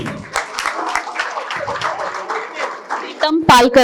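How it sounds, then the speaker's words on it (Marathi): Hands clap steadily through a school reunion gathering of the 1992 batch, a dense, close round of applause with murmuring and a few voices mixed in, swelling briefly near the end. "अरे टाळ्या कमी पडतायत"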